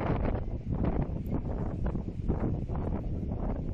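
Steady, blustery wind on a beach on Texel buffets the microphone throughout, a constant low roar with gusty surges and no voices.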